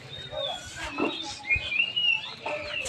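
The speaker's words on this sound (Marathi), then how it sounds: "पक्ष्यांचा वगैरे आवाज येत असेल तुम्हाला" Birds chirp and whistle among large trees in a temple compound, scattered short calls and a few thin rising whistles at moderate distance over quiet background.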